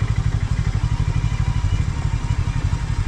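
A motorcycle ridden on a high-altitude mountain road in the Shoja–Jibhi area. Its engine throbs steadily and loudly with an even pulsing rhythm and a little rattling clatter.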